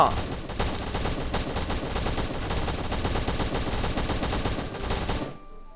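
Rapid automatic gunfire in the Last Island of Survival video game during a fight over a house, a dense burst of shots for about five seconds that stops abruptly.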